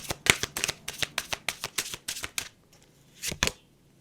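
Tarot cards shuffled and drawn from a deck: a rapid run of crisp riffling flicks close up, a short pause, then a final pair of card snaps.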